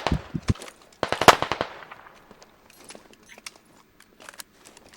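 In the video game Squad, a grenade blast bursts out as sharp cracking pops, then a loud explosive crack about a second in, followed by fading debris-like crackles and scattered faint pops.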